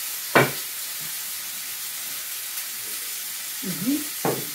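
Meat cutlets fry quietly in a pan with a soft, steady sizzle, and a few brief clatters of a utensil stirring or touching the pan break in.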